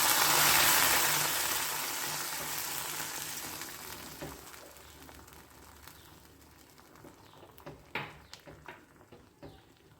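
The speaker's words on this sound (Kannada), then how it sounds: "ತುಂಬ ಕುದಿಸೋದೇನು ಬೇಡ ಇದನ್ನು ಒಂದು ಮೀಡಿಯಮ್ ಕುದಿ ಬಂದರೆ ಸಾಕಾಗುತ್ತೆ" A pot of sabudana and carrot payasa with cashews and raisins bubbling and hissing on the stove, loud at first and gradually settling to a quieter simmer, with a few soft clinks near the end.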